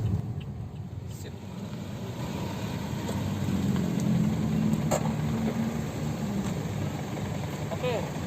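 An ex-Bluebird taxi car hums along on a test drive, a steady low engine and road drone heard from inside the cabin, with someone talking over it and a few faint clicks and squeaks.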